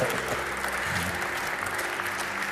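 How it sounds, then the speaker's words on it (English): Brief, dense audience applause at a women's handball team event, an even roar of many hands clapping with faint murmurs underneath. "Big applause for Petra."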